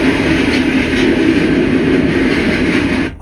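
An eastbound Santa Fe freight train rolls past near a rail yard, a loud, continuous rumbling roar with grinding wheel noise and faint rhythmic pulsing, close by, cutting off abruptly at the end.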